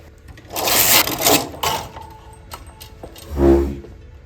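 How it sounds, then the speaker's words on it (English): A knitting machine carriage is pushed across the needle bed twice, each pass a loud rattling, clattering sweep with mechanical clicks, the first run lasting about a second and the second shorter and heavier, with quiet pauses between. "Now I'm going to knit 2 additional rows."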